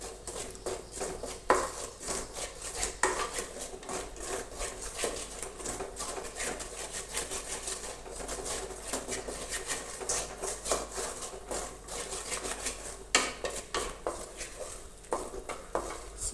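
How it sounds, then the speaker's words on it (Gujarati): Rajgira flour roasting in ghee for sheera, stirred with a spoon in a pan, giving soft repeated scraping and faint sizzle with occasional clinks, fairly quiet and close. "અત્યારે આપણે આવી રીતે તેને બરાબર હલાવતા રહીશું."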